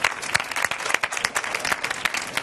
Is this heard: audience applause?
yes